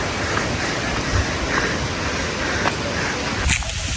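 Steady broadband rushing of falling water, like a waterfall heard from nearby, continuous and fairly even with a brief burst near the end.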